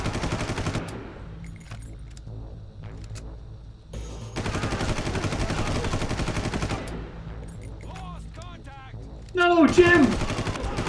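Far Cry gunfire crackles in rapid bursts of machine-gun and rifle shots amid smoke, with loud clustered volleys, brief pauses and a short shout near the end.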